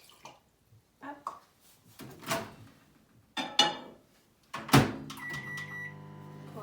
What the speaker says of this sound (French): Je vais le faire chauffer un petit peu au micro-ondes.